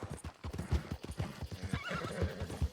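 Horse in the video game Red Dead Redemption 2 trotting with rapid rhythmic hoof clip-clops and a whinny partway through, clear and close throughout.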